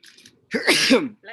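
A single loud, close sneeze bursts out during a comedy Q&A, preceded by a faint intake of breath and followed by a brief voice.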